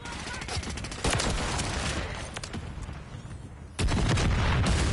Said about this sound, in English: is that a mortar strike?